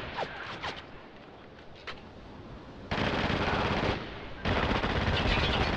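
Automatic gunfire in a Spec Ops: The Line multiplayer match, with loud sustained bursts of rapid shots after quieter scattered shots, no talk over it.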